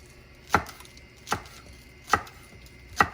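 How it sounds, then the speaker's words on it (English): A knife comes down on green onions on a cutting board for a chicken Cobb salad, four crisp, separate chops spaced slowly and evenly over quiet room tone. "we're just going to chop up some green onions here, or dice up some green onions"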